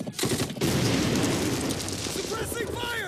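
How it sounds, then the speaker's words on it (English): Sustained suppressing gunfire from a Band of Brothers battle scene, a dense, continuous roar of rapid shots and blasts, loud and close, with a voice briefly heard over the din near the end. "Suppressing fire now"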